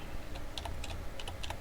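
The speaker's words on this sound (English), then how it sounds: "type in the LinkedIn address" A computer keyboard is typed on in a short burst of quick, light key clicks, close and fairly quiet over a faint steady background hum.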